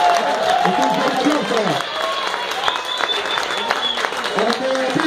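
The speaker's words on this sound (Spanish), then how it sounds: "¡Un fuerte aplauso para Amanda, por favor!" An audience claps for a winner at an awards ceremony in the advanced women's category, a continuous ripple of applause mixed with crowd voices and some speech over the top.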